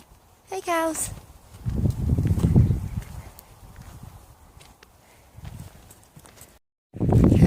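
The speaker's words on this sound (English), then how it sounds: "I don't know if you can see the racehorses going up the track very easily" Racehorses walk up a track, their hooves giving a soft, uneven clip-clop in the middle distance, heard in short bursts with a brief high whinny-like call near the start.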